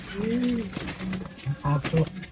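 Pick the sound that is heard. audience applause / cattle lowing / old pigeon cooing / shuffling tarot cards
old pigeon cooing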